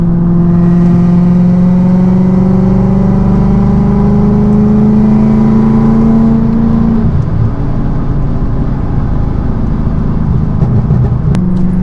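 A car fitted with a VF Engineering supercharger and a Jackal Motorsports tune revs under light throttle, its engine tone climbing steadily in pitch with a whining drone, then dropping back as the throttle eases, loud and close with no talk.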